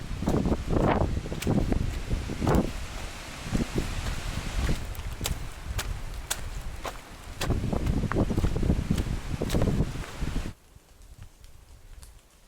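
Gusty wind rushing through forest trees in the Great Smoky Mountains, rising and falling in strong surges with occasional ticks, then dropping to a quiet lull near the end.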